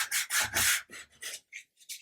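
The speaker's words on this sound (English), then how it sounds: "if you use sandpaper rather than a sanding stick, you'll be able to feel any lumps and bumps" Sandpaper rubbing by hand across a model part, a rapid series of raspy strokes, close and fairly loud at first, then shorter, lighter passes with gaps between them.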